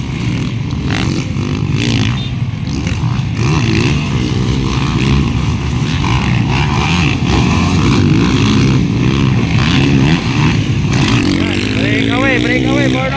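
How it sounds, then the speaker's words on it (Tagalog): Racing motorcycles in an expert class final at a Libona, Bukidnon race roar continuously, engines rising and falling loudly throughout, with one bike seeming to struggle, while a commentator talks over the noise. "Parang may iniinda ang motor ni Makong."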